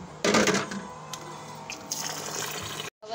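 Rice being washed in water in a home kitchen, a continuous watery sloshing and splashing with a stronger burst at the start, steady and close, then a brief silence near the end.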